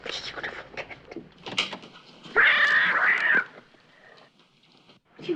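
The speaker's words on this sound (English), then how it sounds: "Oh, you beautiful cat." A cat lets out one loud, drawn-out meow in a stage production of Frankenstein, with quiet voices and soft rustling around it.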